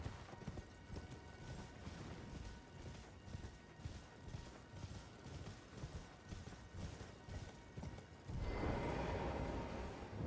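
A horse galloping in the video game Elden Ring, with a quick, regular clip-clop of hooves held at a steady pace, then a louder rushing burst near the end.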